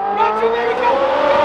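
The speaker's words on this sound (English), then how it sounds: "but we got a straight pipe V8" A straight-piped V8 car engine revs loud and close with a rising, harmonic-rich growl as the car accelerates, while someone speaks excitedly over it.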